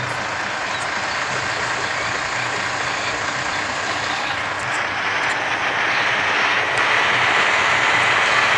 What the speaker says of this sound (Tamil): கஸ் வண்டி முக்குது.